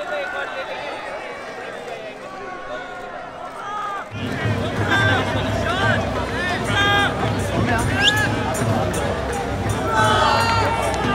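Cricket fans in a stadium in Australia roar and cheer after India's win. A quieter murmur swells suddenly into a loud, dense crowd din full of shouting voices that carries on to the end.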